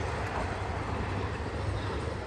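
Amtrak Pacific Surfliner passenger train passing along the coast as a steady, loud rumble with broadband rail noise and a low hum, continuous for the whole stretch with no talk.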